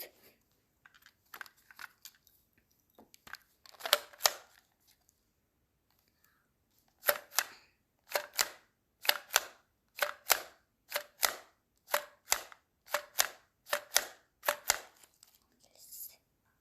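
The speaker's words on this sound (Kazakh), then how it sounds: "Пистолет." Toy pistol clicking up close, a few scattered clicks and then a long run of about a dozen evenly spaced sharp snaps, crisp and near in a quiet room.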